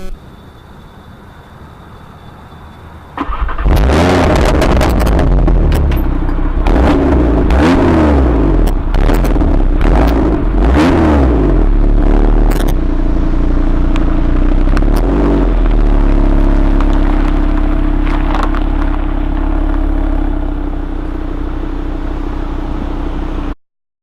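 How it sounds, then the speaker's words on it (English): A 2018 Audi RS3 fires up with a loud burst, then settles into a deep, close rumble punctuated by several sharp revs before easing back to a steady idle. "I can press the starter. You get this fantastic rumble."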